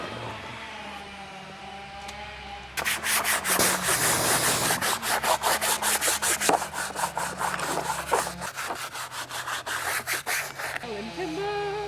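Steady scrubbing strokes from a brush on a Santa Fe during a detail, dense and rhythmic and close to the mic, starting abruptly after a quiet stretch and fading out near the end.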